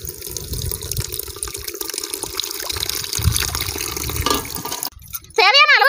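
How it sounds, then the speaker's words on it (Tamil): Tamarind water is poured into a village-style fish curry, a steady liquid splashing under background noise, followed by a short burst of speech at the end. "புளி கரைசலை ஊத்திக்கலாங்க."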